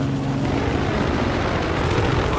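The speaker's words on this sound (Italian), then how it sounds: "Ho individuato un aereo nemico," Enemy aircraft flying in Battlefield 3, a loud, steady engine drone that fills the scene without pause, close and continuous over the whole moment.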